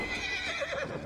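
Horse whinnying in the video game Assassin's Creed Valhalla, a loud, continuous neigh lasting about a second, set against a dense game soundscape.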